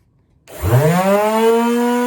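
An old bench-mounted orbital sander over two years in use starts up and runs, a loud, close motor whine that rises sharply and settles into a steady drone.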